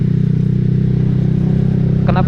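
Honda CBR 1000 motorcycle with a loud exhaust: a steady, deep, throbbing engine drone held for the whole stretch, close and loud, with a brief rattling clatter near the end.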